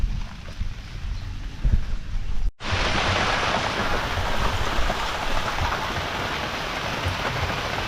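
Steady rain pours down on a bitter gourd farm, a dense close hiss of drops on surfaces; after a brief cut it continues louder and constant.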